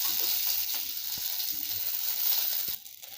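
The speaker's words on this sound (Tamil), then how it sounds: "இப்போ வெங்காயம் வதங்கிருச்சுங்க" Onions sautéing in a pan for a bitter gourd sambar, a steady close sizzle and hiss with small stirring scrapes, easing slightly near the end.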